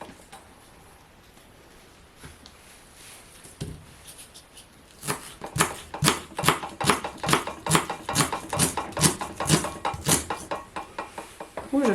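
A knife slices leek on a cutting board, a quiet stretch giving way to a steady run of sharp, evenly spaced chopping taps, close and fairly loud, with no voices.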